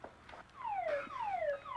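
A fire alarm ringing indoors with repeated falling electronic sweeps, fairly faint and steady over quiet room tone.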